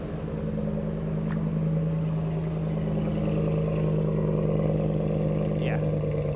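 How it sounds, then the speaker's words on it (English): Deep, steady exhaust rumble from a custom Ford F-150 pickup idling nearby, a constant low drone with a faint pitch wobble and no break across the stretch. "But listen to that exhaust."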